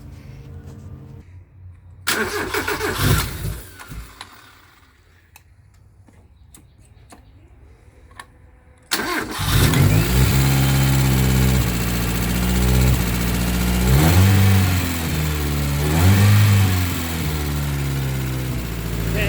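A Mazda BP engine swapped into an MX-3 cranks and catches, then runs loud and rough with rising and falling revs; before the start there are quieter clanks and ticks of work on the car.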